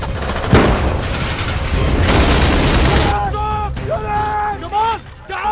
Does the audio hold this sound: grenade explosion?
yes